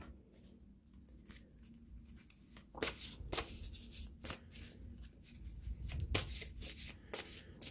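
A deck of cards being shuffled up close before one is drawn, heard as soft rustling with several sharper riffles and slaps, growing busier toward the end, with no talking.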